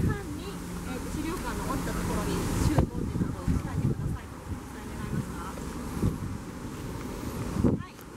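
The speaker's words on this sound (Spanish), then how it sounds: "Es un viento bastante fuerte porque hay un huracán muy cerca de aquí." Strong wind from a nearby hurricane buffets the microphone in rough, uneven gusts, with a low rumbling roar and sudden sharp thumps, loud and close throughout.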